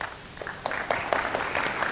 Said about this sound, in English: applaud if you have a smartphone with you right now